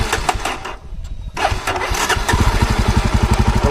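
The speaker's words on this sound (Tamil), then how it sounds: "வண்டி திரும்பி ஸ்டார்ட் ஆகிடுச்சு." Fuel-injected Jawa Perak motorcycle engine cranks, catches after a brief pause and settles into a steady, throbbing idle with a rapid regular pulse, close and loud with no talking.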